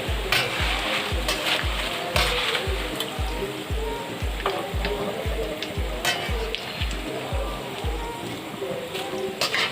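Breadfruit slices frying in oil and then scooped out, with a steady bubbling sizzle and a regular pulsing thump underneath, plus occasional sharp metal scraping taps.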